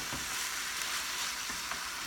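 Hamburger meat mix browns in a frying pan for spaghetti sauce, giving a steady, close sizzle and hiss with a few faint stirring scrapes and no talk.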